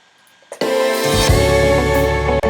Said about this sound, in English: you want to just add in strum sounds